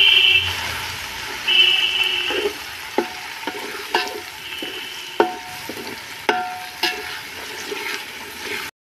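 Ginger garlic paste fries in hot oil for a country chicken curry, a crackling sizzle broken by several sharp knocks of a spoon as it is stirred, stopping abruptly at the end.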